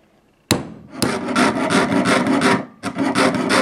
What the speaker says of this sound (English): And then with your steel wool, you're going to clean it.